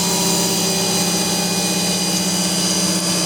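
Grinding the carriage of an ALG 200 machine, a loud, steady whine with strong humming tones that holds without a break, no talk.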